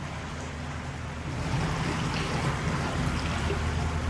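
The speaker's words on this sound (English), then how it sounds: "Bit of splashing." Steady broadband splashing and rushing water heard from a canal boat passing flowstone, continuous and fairly soft, rising slightly after the first second.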